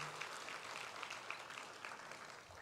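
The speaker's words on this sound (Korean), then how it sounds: "모든 섬김이들 위해서 감사의 박수하겠습니다" Church congregation applauding together during a service, a steady, dense patter of many hands clapping at moderate volume throughout, with no speech over it.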